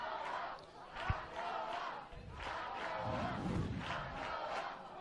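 A partisan football crowd at an FFA Cup Round of 32 match, Hakoah Sydney City East against Palm Beach, roars and jeers over an offside call, a sustained wall of massed voices swelling in waves, with one sharp thump partway through.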